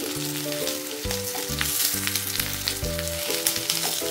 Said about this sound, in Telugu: వీటిని కూడా చక్కగా వేయించుకుందాం